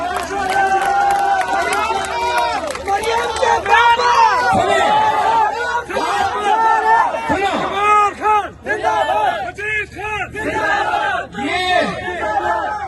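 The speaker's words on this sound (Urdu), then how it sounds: "یہ نعرے بچا کے رکھو، یہ بلبلے اور جذبے بچا کے رکھو" A large crowd at a political rally in Pakistan chants slogans loudly and continuously in ragged, overlapping voices, with shouted cries rising and falling throughout.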